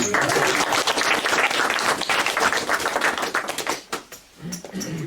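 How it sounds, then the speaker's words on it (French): Audience at a talk on trade unions and business applauds loudly, a dense crowd of clapping hands that thins and falters near the end before picking up again briefly. "Vous avez raison d'applaudir avant de m'entendre."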